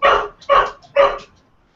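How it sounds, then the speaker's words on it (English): Dogs barking in three loud, close bursts spaced about half a second apart, ending in quiet, with no talking over them. "Just having an interruption from Milky's dogs here."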